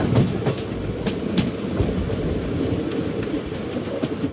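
A passenger train bound for Palakkad rolls along the rails with a continuous close rumble and repeated clickety-clack wheel beats, heard on its own without voices.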